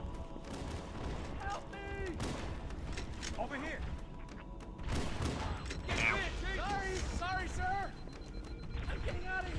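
Gunfire in a video game aimed at the player, a few booming shots and rattling bursts at mid distance, mixed with mechanical noise and clattering under voices talking.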